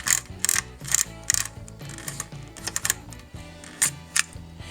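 Holga 120S medium-format plastic camera winding its film advance past the last frame, a run of close, loud ratcheting clicks and gear whirs in uneven bursts, alone without talk.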